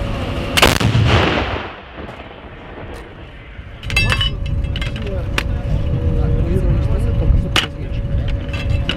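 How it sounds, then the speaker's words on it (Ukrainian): An artillery gun at a firing position fires, a single loud close blast followed by a long rumbling decay. A second sharp report comes later, over background noise and some voices. "Зараз буде постріл"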